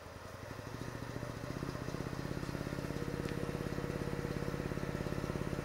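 Woodturning lathe spinning a twig pot blank freely, a steady low mechanical hum with a fast even pulsing whir, faint and constant throughout with no voices.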